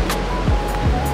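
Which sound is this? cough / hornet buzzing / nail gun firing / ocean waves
ocean waves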